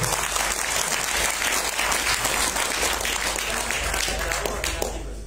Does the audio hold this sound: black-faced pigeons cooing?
no